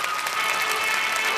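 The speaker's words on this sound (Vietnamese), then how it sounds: "Một tràng pháo tay chào đón" A studio audience on a Vietnamese dating show applauds steadily, dense close clapping with a little crowd noise.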